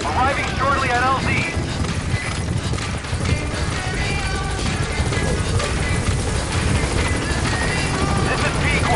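Support helicopter in Metal Gear Solid V: The Phantom Pain coming in to a landing zone, a steady loud rotor roar filling the whole stretch under game music and voice chatter.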